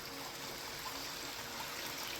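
Water runs steadily through a gold prospecting sluice, a constant close rushing and trickling wash with no breaks and no voices.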